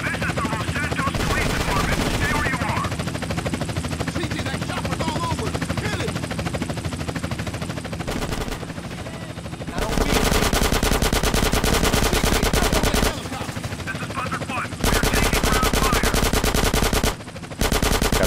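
A helicopter's steady rotor drone runs under long bursts of rapid machine-gun fire in the video game GTA San Andreas, loud and close, the firing starting and stopping in extended volleys.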